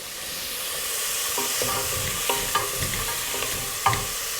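Vegetables cook in a pot over medium-low heat with a soft, continuous sizzle, while a utensil stirs them in several distinct scraping strokes close by.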